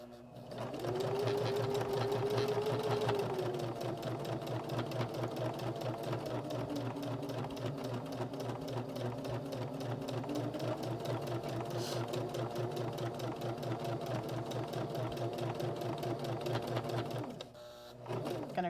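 A sewing machine stitches around a denim keychain made from jean scraps, its rapid needle chatter running steady and close for nearly the whole stretch before stopping near the end, with faint talk underneath.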